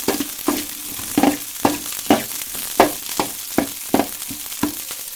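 Ingredients fry in a pan before pasta is added, a soft continuous sizzle broken by regular scraping stirs about every half second, close and moderately loud with no speech.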